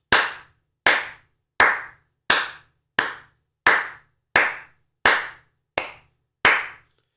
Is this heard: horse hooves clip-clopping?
no